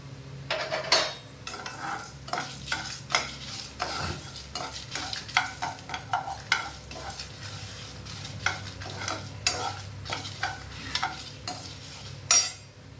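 Coriander seeds, pepper, rice, lentils and Kashmiri and ordinary dried red chillies dry roasting in a pan, stirred with frequent rattling scrapes and light clinks of a spoon over a faint crackle, steady and close.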